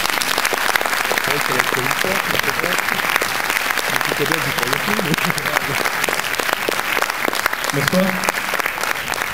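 A film premiere audience claps continuously and densely for a distributor being welcomed, with a voice briefly speaking over it.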